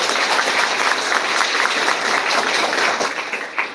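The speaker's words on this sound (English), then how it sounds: "So another round of applause for him," A short burst of audience applause at an event hosting a trade and industrialization official, dense clapping continuing steadily before beginning to thin out at the end.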